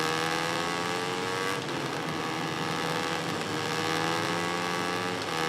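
Racing motorcycle engine in MotoGP 17, a continuous high-revving whine with layered harmonics held under power through a right-hand corner, loud and steady with a slight dip midway.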